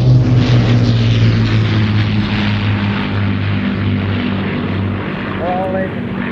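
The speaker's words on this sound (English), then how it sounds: "turn up the sound for the wonderful sound of the Merlin engines." Battle of Britain Memorial Flight aircraft with Merlin engines at an air show, a loud, steady propeller drone with throbbing low harmonics that holds throughout, briefly rising in pitch near the end.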